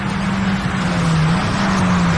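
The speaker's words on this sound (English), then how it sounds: "Number 180 just heads its way around the corkscrew now" Race car number 180 on an endurance circuit, rounding the corkscrew bend: a steady, loud engine drone holding one pitch, with a slight dip and rise midway, over broad track noise and no speech.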